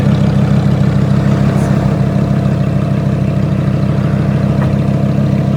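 A Lamborghini's rear-mounted V10 with a special exhaust idles loudly and close by, a deep, steady rumble with a slightly pulsing throb that holds even for the whole stretch.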